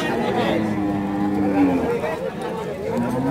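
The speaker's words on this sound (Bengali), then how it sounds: "এখানে সামনে আর একটা লাল গরু।" A cow moos at a busy cattle market selling dairy and desi cows. A close, drawn-out low rises over constant crowd chatter and voices bargaining nearby.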